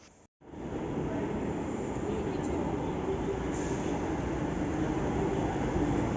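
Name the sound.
metro train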